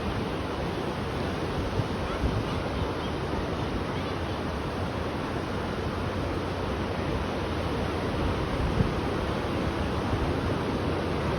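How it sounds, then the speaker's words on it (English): Steady broadband wash of surf, waves rolling continuously onto the shore with a constant hiss and no clear breaks. "The waves are beautiful."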